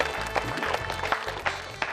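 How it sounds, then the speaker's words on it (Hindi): An audience at a literary event applauding for Sanjay Jhala, a dense, continuous wash of many hands clapping at moderate volume, with a few sharper claps standing out and a faint voice underneath. "आइए संजय झाला के लिए हम जोरदार तालियां बजाएं"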